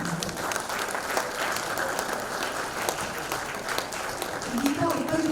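Audience applause and clapping at a Women in Supply Chain & Logistics event, a steady dense patter of many hands filling the room, with voices murmuring beneath and rising near the end.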